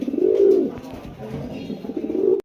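Big racing pigeons coo in low, throaty bursts close by, two main rolling calls with a softer murmur between them, no talking.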